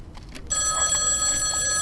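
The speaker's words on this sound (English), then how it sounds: "Oh, the phone's ringing." A telephone rings in the 1937 Scotland setting of the video game Dear Devere, a steady electronic trill that starts about half a second in and continues clearly to the end without talk.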